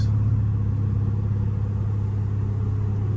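Low, steady drone of a car with a catless exhaust, heard from inside the cabin while driving, as a constant rumble with no speech.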